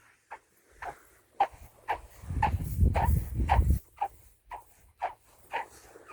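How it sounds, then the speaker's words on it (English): Footsteps crunch rhythmically through fine singing quartz sand, and midway a low booming hum swells up for about a second as sand is kicked. "I'm gonna walk and kick the sand, and I hope you can hear that the sand is singing."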